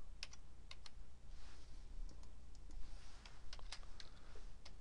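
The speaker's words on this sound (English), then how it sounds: "Right here, I'm going to type x." Light taps on a computer keyboard during Excel chart entry, a few quiet irregular keystrokes close up over a low hum.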